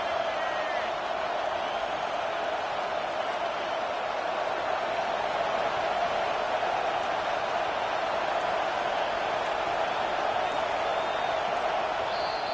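A football stadium crowd roars during a red-zone defensive stand, a continuous broad wash of noise heard from a distance, faint and even with no distinct peaks.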